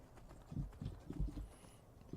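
Horse hooves galloping in the video game Skyrim, a quiet run of muffled rhythmic thuds in quick clusters, close but faint, with no voices over them.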